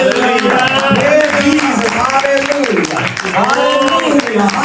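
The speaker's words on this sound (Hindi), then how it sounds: "जोरदार तालियां उस खुदा के लिए" A church congregation claps and cheers for God during a Hindi-language sermon, with broadband applause running steadily beneath a preacher's loud, sustained shouting and praise.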